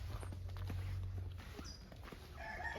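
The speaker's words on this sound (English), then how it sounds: "There's the rooster welcoming us." A rooster crows in Negril, Jamaica, one high, drawn-out call near the end, preceded by footsteps and scuffing sounds close by, in a quiet outdoor setting.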